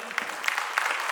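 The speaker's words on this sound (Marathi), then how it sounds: "एकदा प्रेक्षकांसाठी स्वतःच आपण जोरदार टाळ्या वाजवूयात." Audience applause at a school annual concert in Pune, a dense, steady wash of many hands clapping throughout, moderately loud and close with no talk over it.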